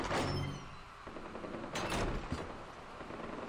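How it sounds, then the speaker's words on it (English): Gunfire from the video game Far Cry 4 crackles in a few faint, scattered bursts, with sharper reports near the start and middle over a low background. "Ah, I always want to wake up and hear gunfire."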